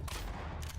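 A gunshot in the horror game The Bornless: a short, loud, broadband burst of fire, close and dense, lasting under a second.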